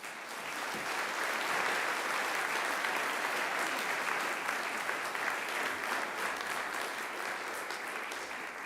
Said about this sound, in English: this is the point that you can clap